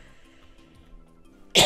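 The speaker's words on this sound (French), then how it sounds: "J'ai toussé." A single sharp cough bursts out at the end, following a stretch of quiet background sounds from the video game Angry Penguin.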